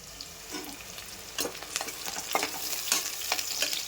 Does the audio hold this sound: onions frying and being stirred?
yes